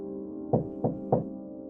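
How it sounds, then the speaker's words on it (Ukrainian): Three firm knocks on a door, evenly spaced and close, stand out over a steady low musical drone in a Ukrainian scary-story narration. "Він постукав у двері."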